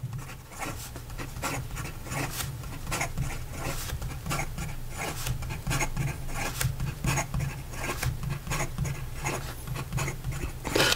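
A Diplomat Aero fountain pen with a fine nib scratches quickly across paper, producing a continuous close rasping with rapid rhythmic strokes and no talking.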